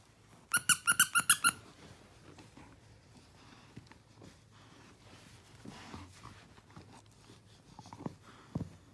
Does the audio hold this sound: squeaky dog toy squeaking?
yes